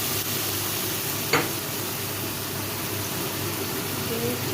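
Chili sauce hitting a hot pan while cooking chili mushroom gives a steady, close frying sizzle that holds throughout, with one brief sharper splash early on.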